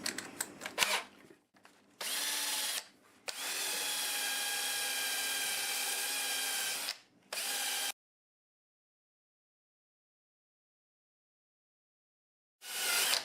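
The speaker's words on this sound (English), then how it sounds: "if you don't have a Sandiflex, one of these, it's a nylon bristle wheel" A nylon bristle wheel sanding black locust wood on a lathe makes a steady, close whirring grind in several bursts separated by short pauses, then a long silence before it starts up again.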